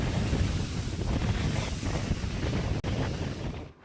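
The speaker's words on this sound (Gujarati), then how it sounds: "અરબી સમુદ્રમાં ભારે પવન સાથે કરંટ જોવા મળ્યો" Strong wind buffets the microphone with a loud, steady roar, and the rushing surge of heavy Arabian Sea waves with strong currents runs beneath it throughout, on the coast at Dwarka.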